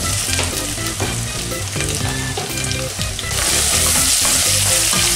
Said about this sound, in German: Jetzt kommt unser Kürbis da rein.